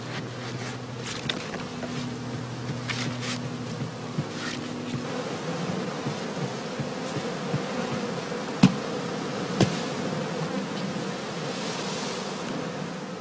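Honeybees buzz around straw skep hives outdoors, a layered drone that is strongest early on and then thins to a softer hum, with a couple of sharp knocks partway through.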